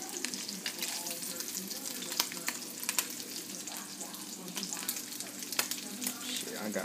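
Food sizzles and crackles in very hot oil, stirred with a kitchen utensil, keeping up an even frying hiss with intermittent scraping stirs and occasional sharper pops.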